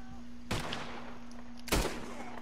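Two sharp gunshots in Red Dead Redemption 2 ring out about a second apart over a steady background hum, fairly close and loud.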